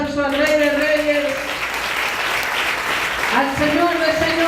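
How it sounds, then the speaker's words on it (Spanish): Church congregation applauding loudly and steadily throughout a Spanish-language worship service, with a voice speaking over the clapping at the start and again near the end. "Dale fuerte el aplauso al Rey de Reyes"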